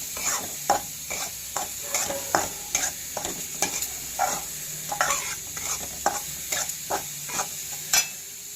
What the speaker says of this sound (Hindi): अब मैं इसको बस चला लूँगी ताकि ड्राई फ्रूट्स भी हमारे अच्छे से इसमें सीख जाए